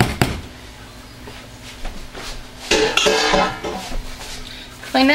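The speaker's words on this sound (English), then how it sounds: "Put the stick blender in the sink." A stick blender used for mixing cold process soap is set down in a kitchen sink during cleanup, giving a few clattering, clinking knocks against metal and dishes between quieter gaps.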